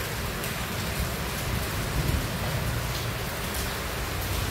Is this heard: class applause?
no